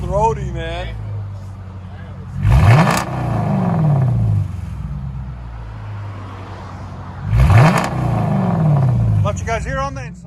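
A 2015 Dodge Charger R/T with a 5.7L HEMI V8, dual exhaust and glass packs, idles with a deep steady rumble and is revved twice in loud, rising bursts that fall back to idle. A voice talks briefly over the start and end.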